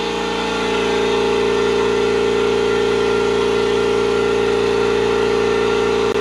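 Stealth 20-gallon air compressor running steadily as it pumps up its tank with the drain valve closed, a loud continuous motor drone with a strong steady hum, unbroken for the whole stretch.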